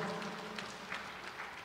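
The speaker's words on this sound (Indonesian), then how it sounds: "Kita berikan tepuk tangan yang meriah buat Tuhan Yesus." A church congregation at a Christmas service applauds, a steady scattered patter of clapping heard from a moderate distance that stays fairly soft throughout.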